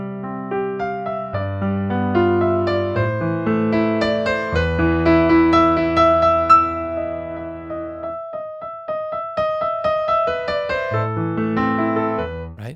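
Solo piano plays Für Elise expressively, with flowing melody over bass notes, slight rubato and swelling dynamics across several phrases, close and clear, and no speech.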